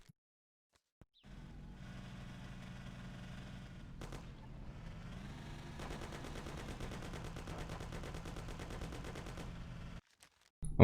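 Gangsters' gunfire in the video game Mafia, a sustained stretch of dense, rapid shots running for about nine seconds, growing busier and more rattling toward the end before cutting out, with no talk.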